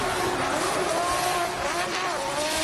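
Drift car at Drift Kings Asia Round 2 in Malaysia screaming on the rev limiter through a corner, tires squealing, loud, continuous and close, with no pauses across the run.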